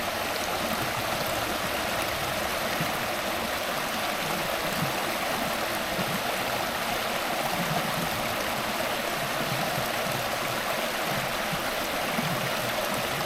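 Steady rushing of a river running over stones on a wooded trail in Durham, North Carolina, a continuous close wash of gurgling water with no voices.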